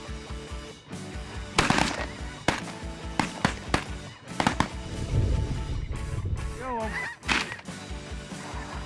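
Shotgun blasts ring out in a late-season duck and goose hunt, sharp loud reports scattered across the stretch amid honking geese and a lively, busy field.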